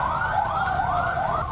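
An ambulance siren wails loudly and steadily in rising and falling sweeps, stuck in a traffic jam on an Indian road.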